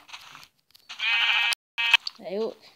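Minecraft sheep bleat in short wavering bursts, a few nearby calls that stand out clearly over game sounds and brief talk.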